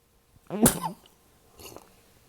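A single sharp, explosive burst like a sneeze, followed by a softer, fainter exhale a second later; no talking.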